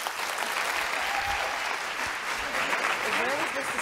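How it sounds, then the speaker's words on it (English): An audience applauds steadily in a hall to welcome panelists at a women's summit event, a broad wash of clapping lasting throughout at moderate, fairly even loudness. "Please give them a welcome applause."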